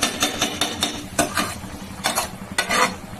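Fried rice is stirred in a pan with a metal utensil, a series of sharp scraping and clinking strokes in an uneven rhythm over a faint sizzle, close by and moderately loud.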